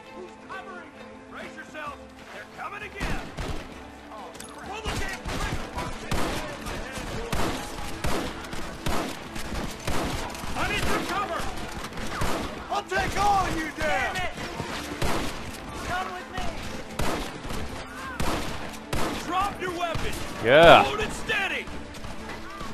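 Repeated gunfire in Red Dead Redemption, rapid sharp cracks and bursts running throughout over an epic orchestral score, with a player talking intermittently over the action and one louder impact near the end.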